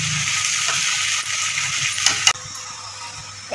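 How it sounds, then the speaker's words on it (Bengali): Yardlong beans and long, thick-cut potatoes fry in a little oil, making a steady, close sizzle. A sharp clink of stirring sounds partway through, and the frying then continues more quietly. "বরবটি আর আলুগুলো দিয়ে দেওয়া হলো"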